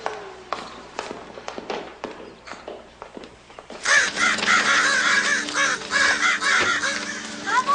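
Crows cawing outdoors, first a few scattered calls over taps and footsteps, then a louder, dense stretch of repeated harsh caws continuing to the end.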